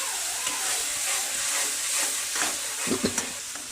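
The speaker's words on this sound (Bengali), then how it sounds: "দিলাম একটু চিনি, আর একটু সামান্য জল দিয়ে আমি এই মশলাটা ভালোভাবে আগে কষিয়ে নিই" Masala for crab cooking down with a little sugar and water in a pan, a constant frying sizzle and steamy hiss with a few spoon scrapes and knocks near the end, close, with no talk.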